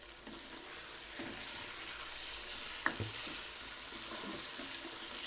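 Whole green chillies hit hot oil in a frying pan, giving a steady, close, loud sizzle with a few stirring scrapes, and no talking.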